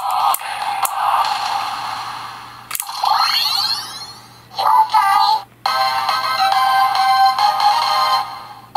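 A Yo-kai Watch Enma medal toy plays its electronic summoning song, a bright, tinny jingle with chirpy effects and sharp clicks, close and fairly loud.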